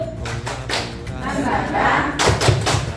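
Teachers perform the 'tepuk semangat' rhythmic clapping routine, sharp group claps landing in short patterned bursts while voices chant along between them.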